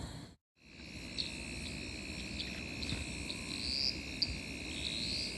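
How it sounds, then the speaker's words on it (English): Frogs call at night in the bush at Karawatha during a frogging outing, with a dense steady chorus of insect-like trilling and a few sharper chirps over faint background hiss, all continuous after a brief silent gap. "there are some wonderful frog calls that we're already hearing"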